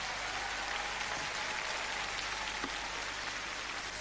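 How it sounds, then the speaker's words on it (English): A crowd applauds a contestant at the Femina Miss India 2001 grand finale beauty pageant, a dense, steady wash of clapping that holds at an even level throughout with no talk over it. "Let's have a round of applause for Selena."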